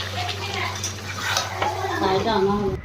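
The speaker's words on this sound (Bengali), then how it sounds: "চিকেনটা কষানো হচ্ছে আস্তে আস্তে" Chicken is slowly stirred and fried in a pan with oil, sugar and yogurt, giving a close sizzle under repeated scraping and clinking of a utensil against the pan.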